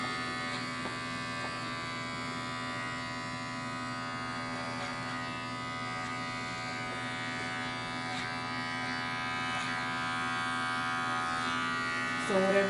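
An electric hair clipper runs continuously over a comb while cutting hair for a taper, a steady close mechanical buzz with a strong hum and small shifts in tone as the blades move through the hair, with a burst of louder contact at the end.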